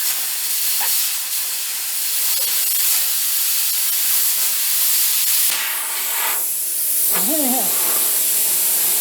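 A Bestarc BTC500D plasma cutter slicing through metal gives a steady, loud hissing roar for most of the clip, with a brief whistling tone near the end and one short spoken word.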